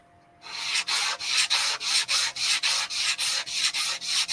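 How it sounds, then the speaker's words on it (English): A 220 grit sandpaper lightly sands a round wooden sign in quick, even back-and-forth strokes, a close and steady rhythmic rasp with no talking. "So I have some 220 grit sandpaper. I'm just going to lightly"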